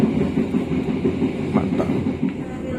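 Riding aboard the Brantas passenger train in Indonesia, a steady, close rumble of wheels on rails carries on with faint rhythmic clatter.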